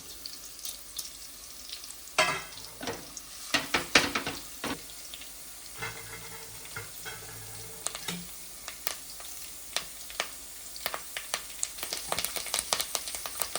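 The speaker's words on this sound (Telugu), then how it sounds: "నూనె కాగిపోయింది ఫస్ట్ ఆవాలు జీలకర్ర వేసేసుకున్నాము నెక్స్ట్ వెల్లుల్లి ఎండుమిరపకాయలు" Garlic and dried red chilies sizzle in hot oil with mustard and cumin seeds for sambar, a soft continuous fry crackle broken by sharp clatters of a spoon against the pan, close and moderately quiet.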